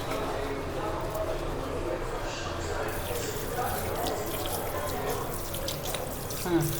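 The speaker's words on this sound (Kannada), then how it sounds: "ಕೈ ಫುಲ್ ಗಲೀಜಾಗಿದೆ, ಫಸ್ಟು ಕೈ ತೊಳಿಬೇಕು." A water tap runs steadily into a sink as dirty hands are washed, a continuous splashing flow heard nearby while people talk over it.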